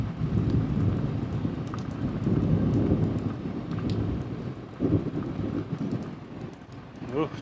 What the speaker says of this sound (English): rain's starting to come down a little heavier now